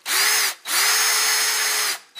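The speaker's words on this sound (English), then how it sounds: "even though that rivet was spinning in there, I was able to drill that out" A power drill bores out a spinning rivet, whining loud and close in two long bursts with a brief pause between and a short third start at the end.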